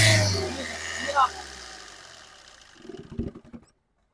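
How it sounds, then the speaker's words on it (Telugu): A 2017 Maruti Suzuki Vitara Brezza VDI diesel engine runs, its loud opening rumble fading into a low idle, then a short burst of uneven mechanical rattling before it cuts off. "ఒకసారి ఇంజన్ యొక్క నాయిస్ అనేది వినిపిస్తాను"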